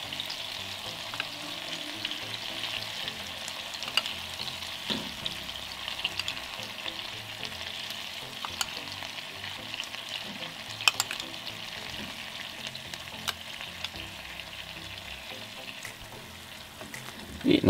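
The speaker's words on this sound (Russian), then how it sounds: "Все, отправляем к крылышкам. И поливаем наши крылышки." Chicken wings with sauce sizzle steadily in a frying pan, a dense close crackle and hiss that continues evenly throughout, with a few sharper pops and a stirring clatter near the end, no talking.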